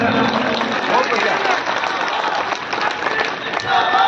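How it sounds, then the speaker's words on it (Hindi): Crowd at a political election rally applauding loudly, continuous dense clapping with cheering voices mixed in throughout. "जोरदार तालियां, समर्थन"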